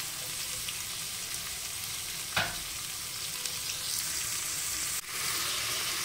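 Onion sautés in a pan as the base for rib croquettes, with a steady, close sizzle and frying crackle throughout, one brief scrape or stir partway in and another abrupt clatter near the end.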